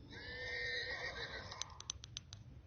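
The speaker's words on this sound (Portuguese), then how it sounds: "Cavalo 2," An app plays a horse neigh sound effect, a loud, shrill, high whinny that ends with a few quick snorting pulses and a light clip-clop, heard alone.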